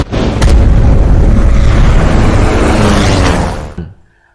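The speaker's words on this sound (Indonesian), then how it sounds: "Lalu kapal ini mereka ledakan." A massive ship explosion erupts in a loud, sustained roaring blast that rumbles for several seconds, then cuts off abruptly into silence.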